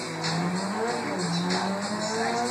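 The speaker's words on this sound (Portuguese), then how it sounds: "Olha o barulho do carro." A steady, sustained car engine drone in GTA 5, rising in pitch like a revving car, fairly loud and unbroken, with no voices.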